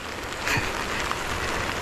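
Steady rain patters on surfaces along a wet mountain climb to Panalaban, a constant close hiss filling the clip with no talk.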